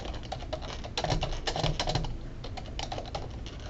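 Typing on a computer keyboard in a quiet room, a close, rapid patter of light key clicks in uneven bursts, densest in the middle and thinning toward the end.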